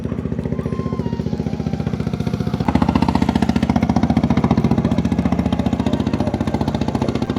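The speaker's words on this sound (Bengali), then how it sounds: "শান্ত জলের বুক চিরে চলা ইঞ্জিন চালিত ট্রলারের মৃদু শব্দ" An engine-powered trawler boat moves across calm water at the Harta floating market. A steady, rhythmic putter of the engine runs throughout and grows a little louder partway through, with no talking.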